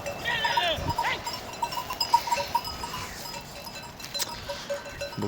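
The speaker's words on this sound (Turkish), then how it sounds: "Koyunlarımızı dün salmadık arkadaşlar." Sheep bleat in short, scattered calls while a flock is let out to graze by the Mudurnu stream, set against steady outdoor background noise.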